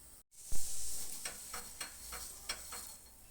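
Besan chilla frying in oil in a pan gives a soft, steady sizzling hiss. Several short scraping strokes of a spatula sound close by, with no one talking.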